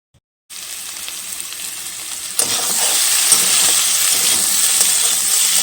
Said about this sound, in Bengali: তো দেখো আলু ভাজাটাকে আগে বসিয়ে দিলাম আলুটা আগে ভেজে নিই